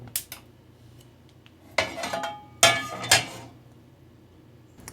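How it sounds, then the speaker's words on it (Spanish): Metal clanks and clatters as a comal griddle is set onto a stove burner in a home kitchen: two light taps, then a scraping shuffle and two sharper clangs, each fading quickly in a quiet room. "Bueno, voy a poner un comal al fuego"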